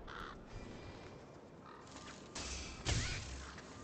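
Crows caw in the fantasy action game Dragon's Dogma: Dark Arisen, set against a low background ambience, with a couple of louder thuds or impacts near the end.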